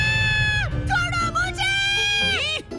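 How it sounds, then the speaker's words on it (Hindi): A child's shrill scream in a Hindi-dubbed cartoon: a loud, close, sustained wailing cry with sliding, wavering pitch that lasts about three seconds. "ऐसे चीखने से कुछ नहीं होगा।"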